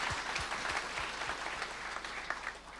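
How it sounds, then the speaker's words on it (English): Conference audience applauding in a hall, a dense even wash of many hands clapping at moderate distance, steady for about three seconds without talk. "round of applause"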